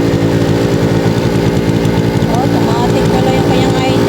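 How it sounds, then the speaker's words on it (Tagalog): A Vispa 90cc two-stroke motorcycle engine runs loud and close, a constant buzzing drone that stays steady throughout, with a voice faintly audible beneath it. "Kaso nag-wild yung motor ni Lolo."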